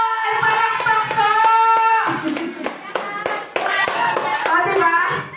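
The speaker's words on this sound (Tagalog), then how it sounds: "Palakpak po!" Several people clap together in a steady burst after a group lift at a casual home gathering, with voices and tonal background sound running alongside the claps.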